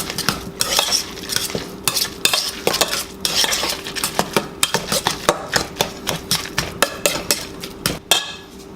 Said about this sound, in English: Let's give this a nice